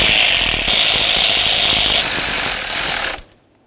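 An impact wrench or power tool snugging nuts onto bracket studs during an idle air control valve replacement on a 1994-2004 Chevy S-10, a loud continuous rattling burst lasting about three seconds before stopping abruptly.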